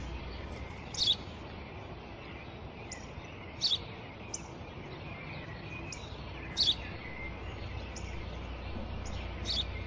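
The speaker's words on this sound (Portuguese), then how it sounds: "Um pássaro." Outdoors, a bird gives a few brief, high chirps spaced a few seconds apart, faint to moderate above a constant background hiss.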